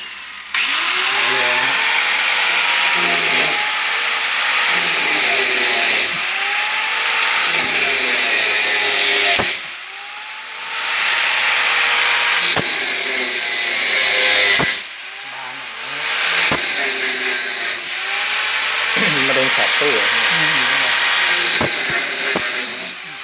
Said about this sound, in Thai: ใช้ลูกหมูเจียเลยนะครับ